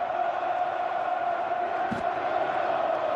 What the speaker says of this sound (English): you hear this crowd in full battle cry now